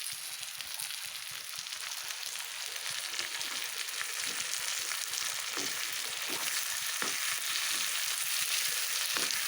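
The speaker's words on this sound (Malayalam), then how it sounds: "തക്കാളി വഴന്ന് വന്നു." Tomato sautéing in a pan for chicken kadai, a steady soft sizzle with faint intermittent spoon taps and stirs underneath, no one talking.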